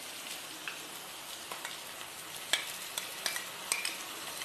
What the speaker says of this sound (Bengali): এবার আমি এর মধ্যে দিয়ে দিচ্ছি বানিয়ে রাখা দই আর ধনে গুঁড়োর